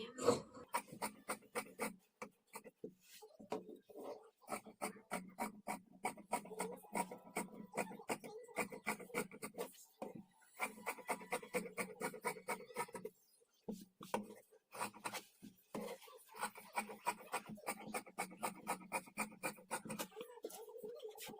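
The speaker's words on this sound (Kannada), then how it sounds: "ಈಗ ಔಟ್ಲೈನ್ಸ್ ಮಾತ್ರ ಕಟ್ ಮಾಡ್ಕೊಳ್ತೀನಿ" Scissors snipping through blouse fabric along marked outlines, a long run of rapid, crisp, rhythmic cuts close by with brief pauses, quiet and with no talking.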